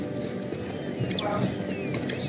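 Horse hooves clip-clop in a video game, a steady light patter of footsteps running under ongoing chatter and faint game ambience.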